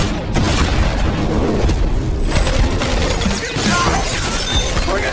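A gunfight in an action film shootout: dense, loud, continuous bursts of shots mixed with crashing, shattering impacts and booms, with no pause throughout.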